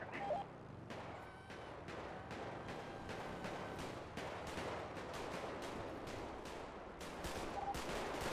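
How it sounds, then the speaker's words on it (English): Rapid bursts of gunfire crackle throughout, sharp repeated shots in quick succession like automatic weapons, fairly distant and steady over a noisy background. "There's gunshots outside"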